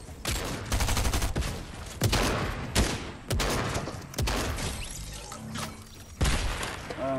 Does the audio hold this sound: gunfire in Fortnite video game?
yes